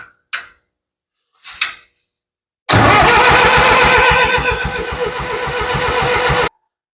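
A Ford 7000 tractor engine cranks on its starter in one loud, continuous stretch of about four seconds, with steady rhythmic turning pulses, following two short clunks.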